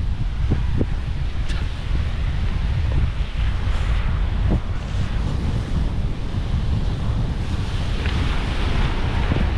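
Strong wind gusting over open sea with waves washing against a boat, a continuous roaring rush with heavy buffeting on the microphone and occasional splashes and knocks.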